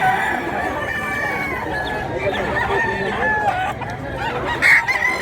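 At a poultry market, chickens cluck continuously and several roosters crow over them. A steady background murmur of the crowd runs underneath, with a sharp, louder crow near the end.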